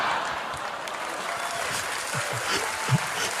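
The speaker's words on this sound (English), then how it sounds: "Do you really think that's why they clapped like that?" An audience at a Tony Robbins seminar applauds steadily, a dense wash of clapping that stays loud and even throughout, with a few sharper individual claps standing out near the end.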